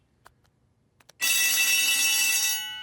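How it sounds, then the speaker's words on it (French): A school fire alarm from a French-language cartoon blares loudly and continuously for over a second after a few faint clicks, a harsh, steady electronic ring that cuts off abruptly. "Nous avons entendu l'alarme."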